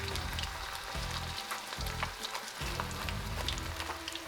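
Garlic and onion frying in oil in a pan, a steady close sizzle with soft crackles and brief dips as the food is stirred, no voices.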